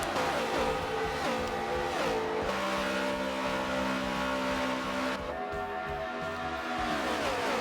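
Race cars in a racing video game, with engines droning steadily and pitching up and down while cars pit at Homestead-Miami. The engine tones are sustained and fairly loud, with no talk.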